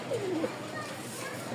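Pigeons kept for sale in Dhaka give a soft, brief coo under a busy background with a voice nearby.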